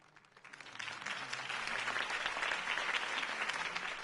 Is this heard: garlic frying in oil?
no